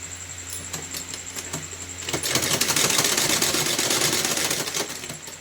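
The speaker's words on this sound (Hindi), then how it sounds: "इसी तरह से थोड़ा थोड़ा कपड़े को दबाते हुए सिलाई लगाकर हम नेफा तैयार कर लेंगे।" Sewing machine stitching a cloth casing for a small Laddu Gopal doll dress: light intermittent clicks at first, then a fast continuous whirring run of stitches, close and alone.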